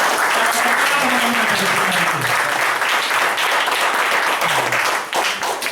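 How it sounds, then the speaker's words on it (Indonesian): An audience applauds the leaders at a gathering, steady loud clapping filling the room for several seconds with a few voices calling out beneath it. "So boleh nggak applause dulu untuk leader kalian semua?"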